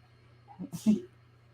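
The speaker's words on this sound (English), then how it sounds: "I just heard him sneeze." A single small sneeze, short and fairly faint, with a quick breath before it in a quiet room with a low hum.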